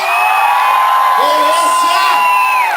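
A concert crowd shouts, whoops and cheers loudly and without a break, with high yells rising over the dense roar of an audience at a live sertanejo show.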